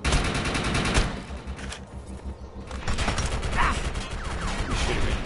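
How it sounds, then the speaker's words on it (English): Rapid bursts of enemy gunfire in the video game Defiance 2050, dense overlapping shots and automatic fire filling the scene loudly and continuously with little pause. "You're shooting me."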